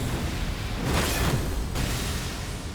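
An explosion in the video game Elden Ring: Shadow of the Erdtree, a loud broadband burst swelling to a roaring peak around the middle and then easing into a sustained rumbling wash, with no talk over it.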